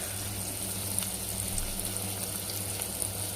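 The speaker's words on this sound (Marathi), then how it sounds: "हे आता वाटपलेले घरचे मसाले टाकलेत, काळे मसाला बनवलाय." Homemade ground black spice masala fries with onion in a pan, giving a steady, soft sizzle with faint crackles throughout and no talking.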